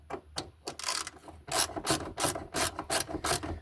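A 3/8-inch drive ratchet turning a T30 Torx bit loosens a door handle bolt on a 2002 Chevrolet Silverado extended cab, giving a run of close, rhythmic rasping clicks in short repeated bursts, with no talking.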